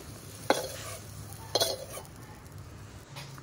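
Raw mango pieces cooking lightly in a pan: a soft background frying hiss broken by two sharp scrapes of a spoon stirring against the pan, close and fairly quiet.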